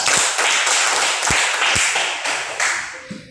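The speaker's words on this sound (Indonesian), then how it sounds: "Iya, tepuk tangan." A classroom of students claps hands together briefly in a loose rhythmic burst, fairly close and loud, with a few sharper individual claps before it trails off.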